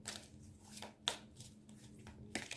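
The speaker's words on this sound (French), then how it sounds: "on va bien mélanger le jeu. Et on va couper." A deck of tarot cards is shuffled and cut by hand: quiet, close riffling and several sharp slaps and taps spaced irregularly in a calm room, with no talking.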